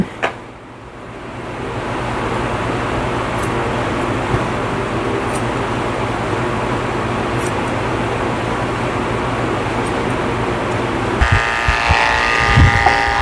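Electric clippers buzz steadily and up close while shaving the belly of a Pekingese dog during grooming, a continuous motor drone lasting the whole stretch with small knocks near the end, no talking.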